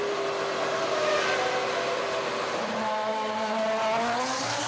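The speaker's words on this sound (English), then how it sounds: "2 or 3 cars coming down the pit straight" Formula 1 cars at the 2007 Turkish Grand Prix scream down the pit straight, their high engine whines rising and falling in pitch as two or three pass in turn, loud and continuous under a distant crowd murmur.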